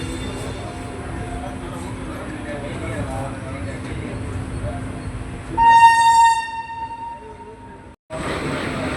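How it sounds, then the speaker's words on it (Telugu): Inside the Rameswaram–Secunderabad special express leaving Tenali station, a steady rumble of rolling wagons is broken by a loud horn blast that sounds for about two seconds and ends abruptly. "ట్రైన్ ఇప్పుడే తెనాలి స్టేషన్ డిపార్ట్ అయింది."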